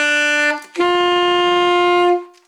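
Close alto saxophone plays a held B, then a short gap, then a longer, steady D with all fingers and thumb down; the tone is bright and reedy with no voices.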